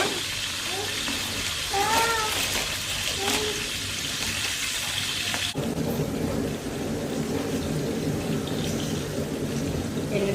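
Spices sizzle steadily in a large pot of oil for a big batch of bagara rice, a continuous close frying hiss with a few faint chirpy sounds early on.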